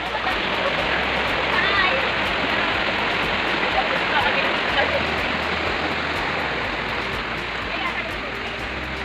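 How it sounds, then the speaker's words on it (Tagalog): A strong river current rushes loudly and continuously at close range during a crossing, a dense broadband roar of churning water with no pauses. "Malakas ang agos ng ilog pero carry lang."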